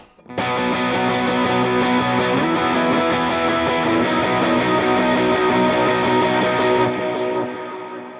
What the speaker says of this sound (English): Definitely usable rhythm tone.